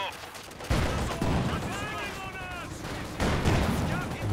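In a war video game, a mortar fires with heavy booming bursts spaced unevenly over a rumbling battlefield din, while a commentator talks over the action.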